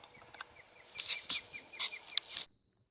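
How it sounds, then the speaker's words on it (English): Faint calls of a wild turkey hen drift in from a distance in Minnesota, a series of short high yelps over quiet outdoor background before falling silent. "We just heard a hen out on the distance,"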